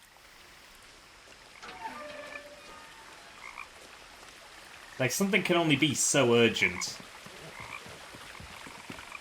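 Frogs croaking in the video game What Remains of Edith Finch, a loud burst of close repeated croaks midway, faint earlier calls, with a person speaking over the start.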